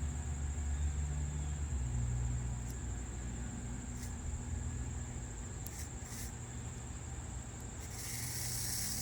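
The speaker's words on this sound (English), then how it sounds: "If we switch polarity, send the train the other way, the light to the right should go on." An HO scale TYCO GG-1 model train runs on its track with a steady, faint electric motor hum and whir, a few tiny clicks scattered throughout.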